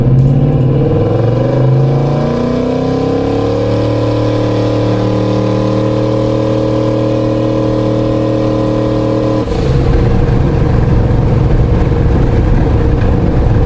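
A boosted car engine with big injectors and fresh spark plugs revs up through rising tones and holds a loud steady drone, then drops back to a rougher, rumbling idle.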